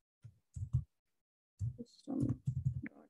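Short bursts of clicking keystrokes on a computer keyboard, quiet and close, with a brief pause before a longer run of rapid taps.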